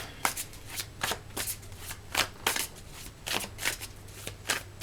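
Oracle cards being shuffled by hand, a rhythmic run of crisp riffling and slapping bursts close up, repeating steadily without speech.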